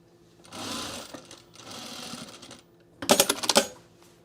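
Sewing machine stitching a sewn rug without backstitching, running in three close bursts: two steady stretches, then a louder, choppier run near the end.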